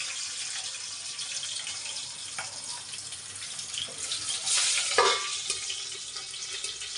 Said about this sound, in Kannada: ಬೆಳ್ಳುಳ್ಳಿ ಹಾಕೋತಾ ಇದ್ದೀನಿ.